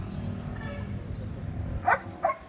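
Two short, sharp dog barks ring out near the end, close by, over a steady low rumble and indistinct background voices.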